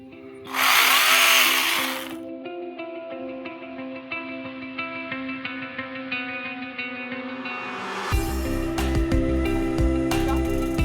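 A hedge trimmer cuts down feverfew plants on a flower farm in July. Its motor gives a loud burst at first, then a steady whining hum, and turns rougher and choppier near the end.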